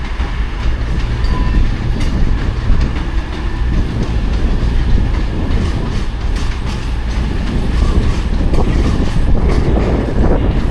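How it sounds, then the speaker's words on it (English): A long train of two units joined together rumbles steadily past at Sheffield station with a continuous heavy roar and rhythmic clatter of wheels over rail joints, loud and close throughout. "Quite a long train."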